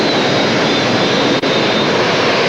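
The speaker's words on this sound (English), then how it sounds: "Sitting behind 4 Rolls-Royce gnome turbines, which come from Westland Wessex helicopters." Pulling tractor powered by four Rolls-Royce Gnome helicopter turbines from Westland Wessex helicopters, at an indoor European tractor pulling event in Rotterdam's Ahoy arena: a loud, steady, unbroken turbine roar with a high whine, dipping for an instant midway.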